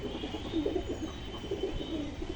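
Pigeons in a breeding loft give soft, repeated low cooing calls, several overlapping murmurs close by over a steady background hiss.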